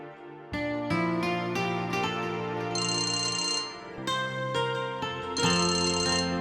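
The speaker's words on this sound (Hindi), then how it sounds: "माया का फोन, गुड टाइमिंग" A phone ringtone signals an incoming call: a loud, repeating electronic melody of bright tones played alone, with high chiming phrases recurring at intervals.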